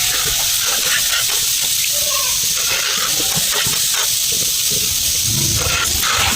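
Boondi batter fries in a large amount of hot oil, a steady loud sizzling hiss with crackling bubbles continuing without pause, close up.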